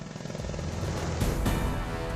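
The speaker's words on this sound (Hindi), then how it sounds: "भारतीय सेना को इसी महीने मिलेगा गेम चेंजर अपाचे हेलीकॉप्टर।" An AH-64E Apache attack helicopter produces a dense, loud, steady rotor and engine roar with broad rumbling noise and a pulsing undertone throughout.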